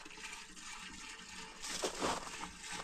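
Gasoline poured from a container, a soft liquid splashing and gurgling that grows fuller and louder in the second half, heard close and faint with no talking.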